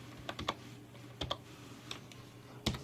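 Computer keyboard typing: a handful of scattered keystrokes in short clusters, close and quiet, with no one talking.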